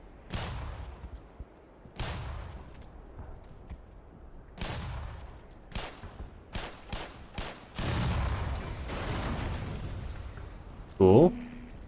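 Pistol shots in the video game Black Mesa, a series of sharp, loud single cracks fired at irregular intervals, some spaced apart and some in quick bursts, with a brief voice-like blip near the end.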